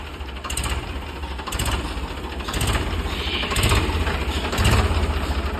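Ford 3600 tractor with fat tyres running steadily nearby, a low chugging engine with a regular pulsing beat about once per second, alone without speech.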